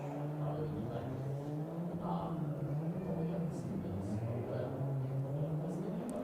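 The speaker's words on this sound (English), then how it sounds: "we'll let some 5-cylinder sing around the warehouse" A five-cylinder rally car engine drones and revs steadily around a warehouse during a rally special stage, its harmonic note rising and falling continuously at moderate distance with no pauses.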